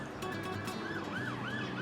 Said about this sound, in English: police car to our right, kicking off in Wednesbury